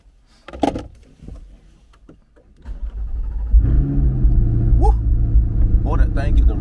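A 2022 Chevrolet C8 Corvette convertible rumbles steadily while driving, its low engine drone building after a quieter start and holding loud and close, with people talking over it.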